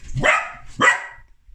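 Two loud, close dog barks about half a second apart, each a sharp bow-wow, then quiet, heard indoors in a house where stairs are being carpeted.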